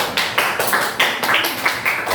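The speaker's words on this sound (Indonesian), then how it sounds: "Tepuk tangan yang meriah dulu." A classroom of children applauds a group's presentation in a religious education lesson, a short burst of uneven clapping with several louder claps standing out, fairly close and without talk.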